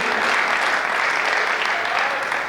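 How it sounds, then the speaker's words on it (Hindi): Loud, dense audience applause at a stage event, a continuous roar of clapping from a large crowd that stays level for the whole stretch. "एक बार जोरदार तालियां हो जाए उनके लिए।"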